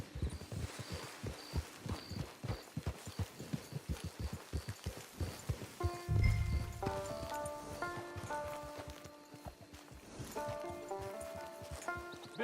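Horse hooves clip-clop in a steady trot through the first half in Red Dead Redemption II, then slow and fade as a low thump and soft musical tones take over.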